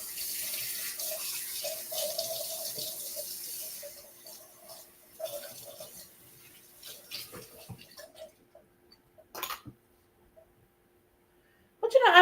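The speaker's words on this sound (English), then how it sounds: "Let me rinse out my 1/4 cup." A quarter-cup measuring cup is rinsed under a running kitchen tap, with steady water flow in the first half easing to quieter splashes and a few brief taps near the end, partly alongside a voice.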